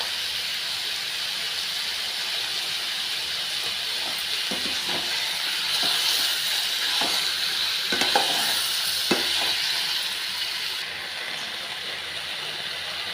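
Chicken pieces sautéing in a hot pan for pepper chicken fry, a steady close sizzle with scattered scraping stirs and light clinks, no talking.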